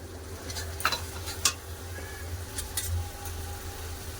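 Ground chili, cumin and mustard paste sizzling in hot oil in a pan, a soft steady crackle with a few sharp clinks of a stirring utensil against the pan.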